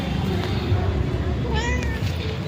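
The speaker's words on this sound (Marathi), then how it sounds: "मांजर पण बघा." A cat meows at home in a couple of short rising calls, heard near and fairly clear above a steady low hum while a person talks nearby.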